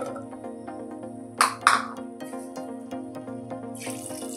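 Water is poured into a pressure cooker over soaked chickpeas, a soft, fairly quiet trickle with two brief splashy bursts and a final short gush.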